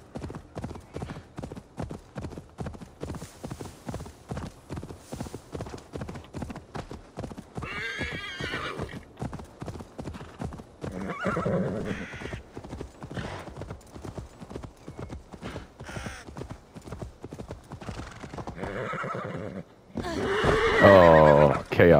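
Horse hooves clip-clop in a steady galloping rhythm through most of the stretch, with several neighs and whinnies breaking in, in the video game Assassin's Creed Valhalla; a voice speaks over it.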